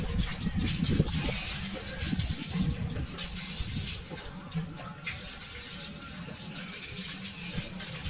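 Freshly harvested mango ginger is washed in water, with a steady running, splashing flow like a tap filling a basin. Faint voices and the clatter of the roots being handled sit under the water throughout.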